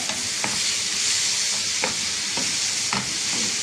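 A steady frying sizzle as green chutney ingredients cook in a pan, with a few soft scraping stirs spaced through the short stretch; no voices.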